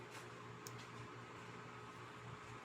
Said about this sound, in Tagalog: Lakas ng blower.